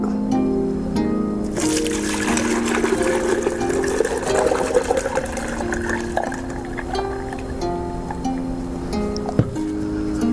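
Hot water poured into cups at a street-food stall at an outdoor summer festival, a steady close liquid stream running for several seconds over a busy background with tonal hum and occasional clinks.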